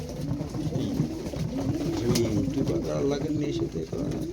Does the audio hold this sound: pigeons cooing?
yes